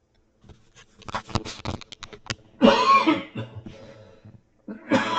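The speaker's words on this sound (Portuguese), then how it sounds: "Me desculpe por essa tosse chata" A man coughs repeatedly in a quiet room: a string of short, harsh coughs in bursts, then a longer rough hacking cough, close and loud.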